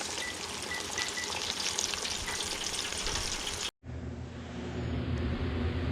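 Chicken for a po boy sandwich frying in hot oil, a steady dense sizzle that cuts out briefly near the end before resuming as a fuller, lower crackle.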